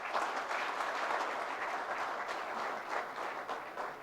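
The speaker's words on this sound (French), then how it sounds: "sous vos applaudissements" An audience at a closing ceremony for a digital round table in Gabon applauds a minister of state with sustained, moderately distant clapping from a crowd that swells and eases slightly, with no speech.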